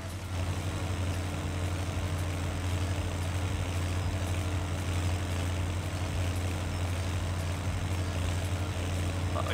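Truck engine idling with a deep, steady exhaust rumble in Farming Simulator 17, a loud constant low drone that holds evenly throughout with no talk over it.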